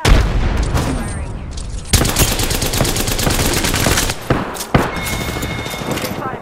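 Loud, close automatic gunfire strikes the player in Apex Legends, rapid rattling volleys separated by a few short gaps and sharp single reports, with in-game voices heard between shots.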